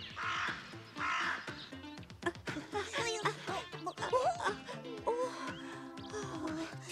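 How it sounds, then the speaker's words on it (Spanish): Crows in a cartoon, ugly black birds, caw in loud repeated harsh calls layered with chattering, laugh-like squawks, filling the whole stretch with dense overlapping cries. "Mira qué pájaros negros tan feos."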